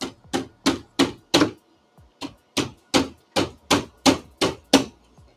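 A hammer taps repeatedly during assembly of a Milwaukee M18 RedLithium High Output XC8.0 battery: a dozen sharp, close knocks in two even runs separated by a brief pause, with no talking.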